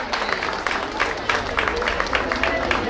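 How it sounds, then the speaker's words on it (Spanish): Audience at a cultural gathering in Valsequillo, Gran Canaria, breaking into steady, dense applause with bursts of clapping and crowd noise, fairly loud and close, sustained throughout with some voices mixed in. "Ese fuerte aplauso."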